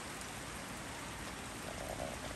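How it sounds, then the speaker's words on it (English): Steady rain falls on puddles outdoors on Hawaii's Big Island, a continuous soft hiss of drops with no voices. "Some of the girls out and about in the rain, walking through puddles."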